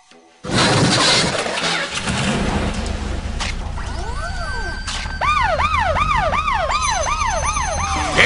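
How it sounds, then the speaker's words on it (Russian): Cartoon fire engine siren wailing loudly and steadily, with rising and falling tones repeating over engine rumble and commotion, continuing throughout. "Посторонись! Пожарные едут!"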